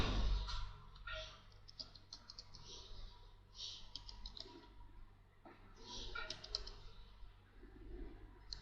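Keys tapped on a computer keyboard while a password is entered, quick irregular bursts of soft clicking that pause and resume, close and fairly quiet against a low background hum.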